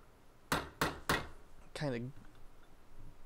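Three sharp hammer blows strike a one-way bearing as it is driven into place, spaced about a third of a second apart, followed by a brief ringing metallic scrape in a quiet room.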